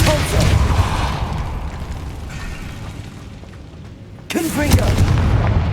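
Repulsor spell blast in Hogwarts Legacy: a loud booming impact that decays into rumbling noise, followed by a second sharp burst near the end, with brief vocal effort sounds mixed in.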